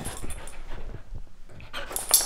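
A dog whimpers and lets out short yips in a few quick bursts, close and fairly loud, with no talking.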